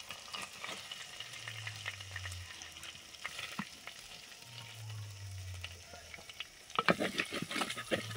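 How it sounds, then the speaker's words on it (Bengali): Pieces of snakehead fish are lightly fried in oil, a soft steady sizzle with occasional stirring clatters that grow busier and louder toward the end, heard close and fairly faint with no talking. "মাছগুলো হালকা ভেজে তুলে নিচ্ছি।"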